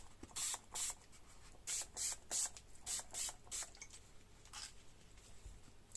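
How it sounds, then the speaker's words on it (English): Several quick hissing bursts from a water spray bottle misting a craft or art piece, in an irregular run of about nine short squirts close up with quiet pauses between them. "Let's get some water spray and just give that a spray"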